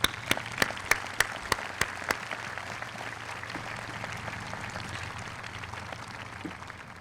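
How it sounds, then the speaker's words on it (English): A graduation audience applauds for teachers, starting with a few sharp, distinct claps that quickly swell into a sustained, even wash of clapping from a large crowd, heard from a middle distance. "give these people the round of applause they deserve"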